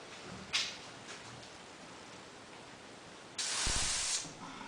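A sharp burst of air hisses from a car tire valve stem as a stick-type pressure gauge is pressed on, after a shorter puff earlier, over a steady background hum.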